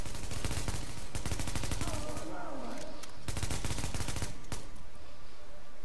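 Rapid bursts of automatic gunfire from the shooter game Tom Clancy's The Division, loud and close, in two long strings of shots split by a short pause, with someone speaking faintly underneath.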